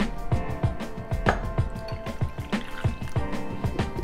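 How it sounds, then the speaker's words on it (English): Club soda poured into a fish batter, a wet sloshing and squishing nearby with a rapid rhythmic stirring-like pulse and bubbly fizz throughout. "Now let's add our club soda."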